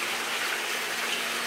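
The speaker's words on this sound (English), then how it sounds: "It's a fountain outside." Outdoor water fountain running steadily in the background, a continuous broadband splash and gush with no breaks, moderately loud and alone.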